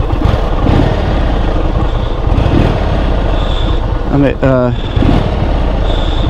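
A 2022 Indian Super Chief Limited cruiser motorcycle engine idles with a low rumble, then briefly revs higher before settling, while someone talks over it.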